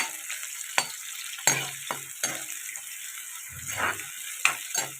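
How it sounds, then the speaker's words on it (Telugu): Chopped onions and curry leaves frying in a pan of oil, a constant bright sizzle broken by repeated scraping bursts of a spoon stirring, close and clear. "అదే కట్ చేసి పెట్టుకున్న ఆనియన్స్ కూడా వేసేయాలి ఇది ఇప్పుడు ఫ్రై అవ్వాలండి"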